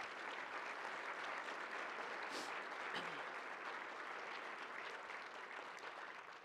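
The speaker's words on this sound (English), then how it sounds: "Let's give them a loud round of applause" Loud, sustained applause from an audience at a Creative Convergence 2015 arts event, a dense even clatter of many clapping hands filling the room throughout and easing slightly at the end.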